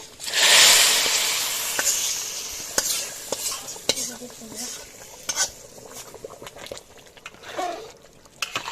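Hot oil poured over chicken and winter vegetable khichuri bursts into a loud sizzle, then settles into crackling with occasional stirring clinks.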